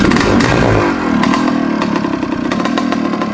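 A 1977 Suzuki RM250 two-stroke dirt bike engine buzzes loud and close, revving high at first and then settling into a raspy, uneven running note with metallic clatter.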